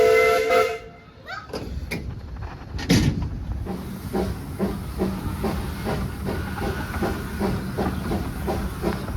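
Maid Marion, a Hunslet-built narrow-gauge steam locomotive on the Bala Lake Railway, sounds a short whistle, then settles into a steady hiss with rhythmic chuffing nearby.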